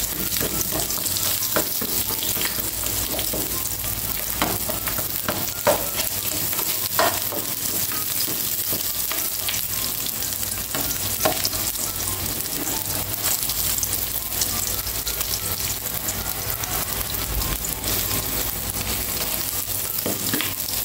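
Onion sautéing in a hot pan for Filipino chicken sinampalukan, a steady, close, continuous sizzle and crackle with occasional stirring scrapes throughout, no talking.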